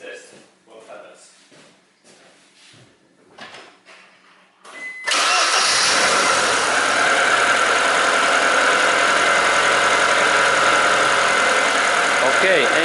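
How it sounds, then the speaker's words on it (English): A Ford Escort Zetec engine cranks briefly after some quiet clatter, then catches and settles into a loud, steady idle. "engine is running"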